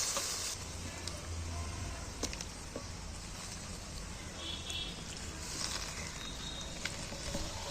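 Water coming to a rolling boil in a pot as chicken pieces go in, a steady close bubbling and sizzling hiss with scattered pops and faint clatter, no talk.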